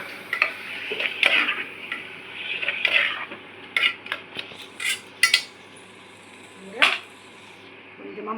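Tomatoes tipped into a pan of sautéed ginger and garlic for a home-cooked Sunday curry, with scattered clinks of a metal spoon against the pan and soft stirring over a faint sizzle, some pauses between strokes.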